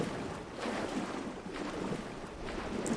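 Water splashing and washing in a Myst IV: Revelation game scene, a soft continuous churning with gentle surges, no voices.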